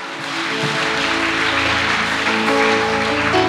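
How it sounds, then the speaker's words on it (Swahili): A crowd claps continuously, a dense wash of applause that swells in and holds steady, with a low hum beneath it. "Jipigie makofi kama Isaac."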